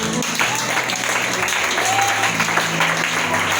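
An audience in church applauding, loud and continuous clapping filling the space, steady from start to finish without pause.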